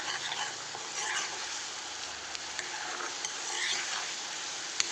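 Masala paste made with tomato fries in a pan for paneer curry, producing a steady close sizzle with occasional spatula scrapes and light clinks, with no talk.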